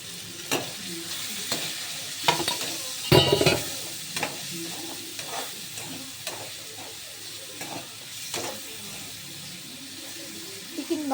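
Chicken stir-fried in oil in a pan with onions and green chillies for chicken noodles, a steady sizzle broken by repeated scraping clicks of a spatula stirring, close and moderately loud.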